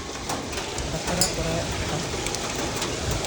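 Steady rain hiss fills the clip, a dense broadband patter with no breaks, moderately loud and close.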